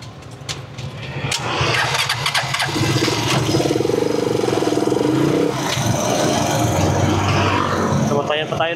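A motorcycle engine cranks and starts, then revs and idles steadily nearby in Tuguegarao City traffic, with a voice speaking over it.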